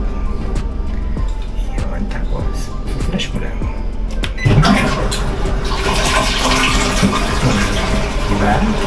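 A toilet in Tokyo, Japan flushes loudly up close, a rushing swell of water kicking in midway and continuing to gurgle and refill over a constant background hiss.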